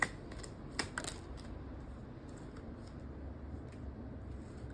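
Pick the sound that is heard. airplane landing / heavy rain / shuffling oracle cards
shuffling oracle cards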